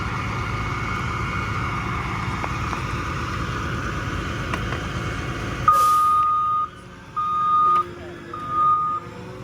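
A road grader at work on a new driveway, a steady engine rumble under faint background talk, then a series of loud intermittent reversing beeps sounding in separate bursts as the machine backs up.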